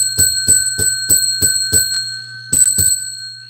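A small bell dinged repeatedly in a steady rhythm, about eight bright, ringing strikes close by with lingering tones, briefly pausing before two final rings, no talk.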